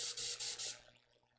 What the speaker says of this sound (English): it's straight up black that I'm spraying in here now